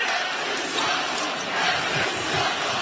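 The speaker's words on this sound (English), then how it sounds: "Crowd disagrees with the call" Basketball arena crowd at an Alabama versus Robert Morris March Madness first-round game, a loud sustained roar of disapproval over a foul call that fills the whole stretch without a break.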